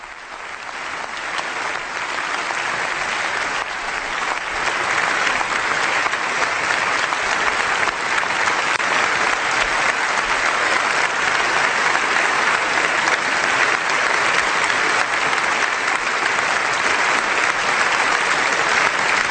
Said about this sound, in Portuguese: ele é aplaudido com o parlamento de pé